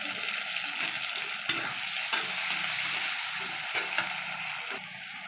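Chopped onion and tomato fry in oil left over from frying catla fish, with nigella seeds tempered in it. A constant close sizzle runs throughout, with occasional clicks of a spoon stirring the pan.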